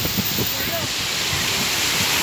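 A forest waterfall pours in a steady, dense rush of falling water that fills the whole short stretch, with voices faintly underneath.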